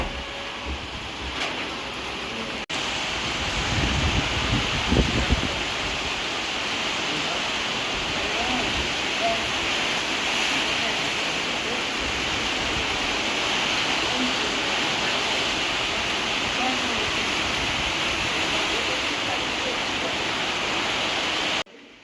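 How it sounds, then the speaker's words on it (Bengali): Heavy rain falls steadily during a storm, a dense, even roar that stays loud and unbroken for over twenty seconds, heard from indoors. "এখনো বৃষ্টি পড়ে যাচ্ছে, ভালো জোরে বৃষ্টি হচ্ছে"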